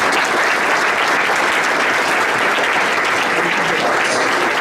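A board of education meeting audience claps loudly and steadily, a dense, continuous round of applause filling the room from start to finish.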